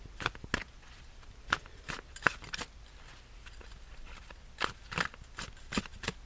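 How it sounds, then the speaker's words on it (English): Tarot cards are shuffled up close, giving soft, irregular flicks and snaps scattered over quiet pauses. "Right now I'm just shuffling."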